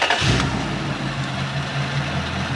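A Toyota Celsior (Lexus LS400) engine cranks and catches with a brief rev, then settles into a steady low idle, close by.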